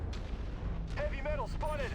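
Incoming missile impacts in the MechWarrior video game land as heavy, muffled booms over a low rumble, with brief whistling tones and game sounds layered on top.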